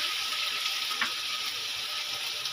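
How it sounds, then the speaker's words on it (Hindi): Green chillies go into aloo gobhi frying in hot oil, giving a steady, close sizzle with a soft stir-like crackle around the middle and no voices. "अब हम इसमें डालेंगे 2 सब्ज मिर्च"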